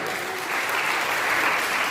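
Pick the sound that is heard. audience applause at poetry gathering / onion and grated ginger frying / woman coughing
audience applause at poetry gathering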